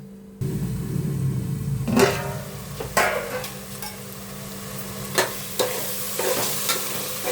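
Masala frying in oil in a pan while being stirred, with a steady sizzle underneath and several sharper scraping strokes of the spoon against the pan, close and alone.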